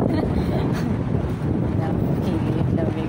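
Gusty outdoor wind buffets the microphone on a walk home, a constant low roar and rumble that masks everything else for about three seconds.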